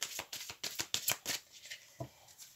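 Mademoiselle Lenormand oracle cards are shuffled by hand, a quick run of crisp riffling bursts close up that slows into a few separate soft flicks, with no one speaking.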